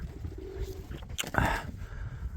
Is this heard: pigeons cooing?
yes